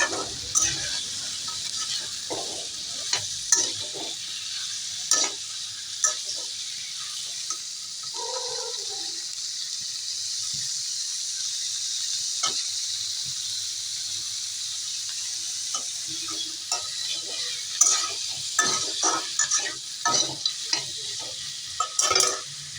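Meat pieces added to a pan of fried onions and fat, giving a steady soft sizzle with intermittent stirring scrapes and clinks throughout.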